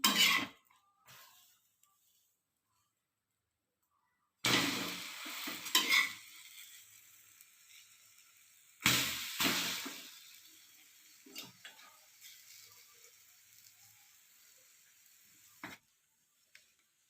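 A bread omelette cooks in a pan, with short bursts of sizzling and spatula scraping that come and go, separated by stretches of near silence.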